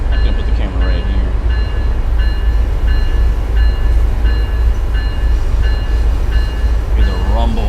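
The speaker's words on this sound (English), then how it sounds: "Hear the rumble of that engine before they replace it with electric." An MBTA Boston commuter diesel train engine in Train Sim World 5 rumbles steadily and loudly, a deep continuous drone with repeating horn-like tonal pulses layered above it.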